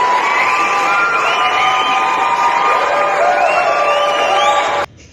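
A large crowd of young voices shouts and cheers loudly in one continuous roar, with high whoops rising above it, then cuts off abruptly just before the end.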